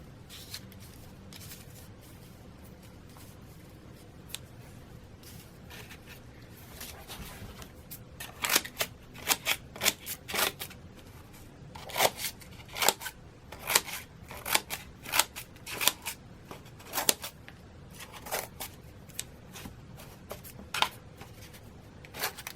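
Crisp, repeated snips of scissors cutting close by, starting sparse and quiet, then coming in quicker, louder clusters.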